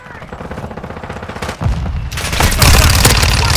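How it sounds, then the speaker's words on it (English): Mortar strike and gunfire in a combat video game, dense rapid automatic fire building into heavier booming blasts and steady loud barrage, with game voices calling out over the shooting. "Mortar support incoming!"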